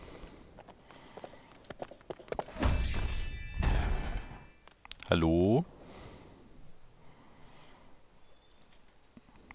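A horse in the Lego Worlds video game gives a brief clip-clop and whinnying burst mid-clip, near and fairly loud, set between game sounds and a short spoken greeting.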